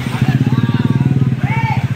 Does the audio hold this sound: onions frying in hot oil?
no